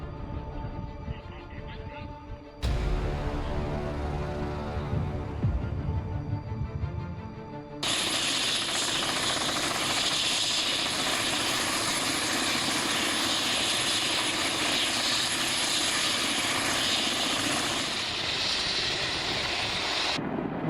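A Kamov Ka-32 helicopter's loud, steady engine and rotor roar builds in stages, then holds as a continuous hovering drone while hoisting a giant power pole.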